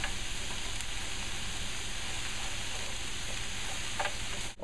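Mushrooms and onions sizzle gently in a pan, a steady soft crackle and hiss with no pauses, close and even in level, alone without talk.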